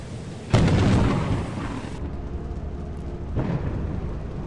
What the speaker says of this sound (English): Random lightning, folks